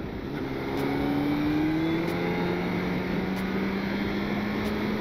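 A motorbike engine pulls steadily under throttle, its droning note rising slowly as revs climb, loud and close with constant road and wind noise behind it.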